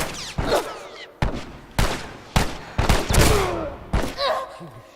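A burst of loud gunshots from The Last of Us video game, six or seven sharp cracks spaced irregularly about half a second apart, each with a short ringing tail and no talk.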